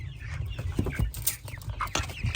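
Brahma chickens cluck and mutter close by in short, overlapping bursts, a busy coop chatter with scratchy background noise.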